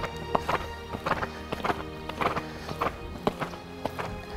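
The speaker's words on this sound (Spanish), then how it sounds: "Esto es un galope totalmente franco." A horse gallops through a riding exercise, its hoofbeats falling in a steady, regular rhythm of distinct clip-clop thuds, close and clear with no talk over them.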